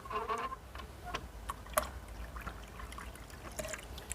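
Water trickles and splashes quietly into the water tank of a Breville Barista Pro espresso machine, a faint, uneven dribble with small intermittent drips.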